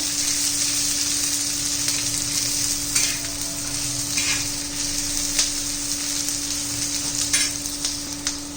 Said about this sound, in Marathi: कांदा चांगला परतून घ्यायचा आहे स्वच्छपणा जाईपर्यंत